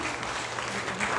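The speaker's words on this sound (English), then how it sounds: "Please give these stars a big applause" An audience applauds after a children's dance program, a short burst of steady, even clapping from many hands.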